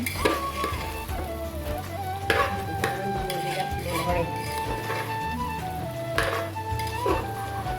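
Pulao rice cooked in ghee is stirred in a pot with soft scraping and clinks under a steady low sizzle, while a voice talks over it and music plays throughout.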